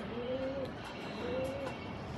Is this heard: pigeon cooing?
yes